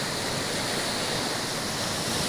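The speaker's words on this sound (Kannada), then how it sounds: "ಪ್ರವಾಹದ ರೀತಿ ನೀರು ಹರಿತಾ ಇದೆ" Floodwater rushes along a road in Chikkamagaluru, Karnataka, during heavy, continuous rain, making a loud, unbroken roar of torrential flow with no voices.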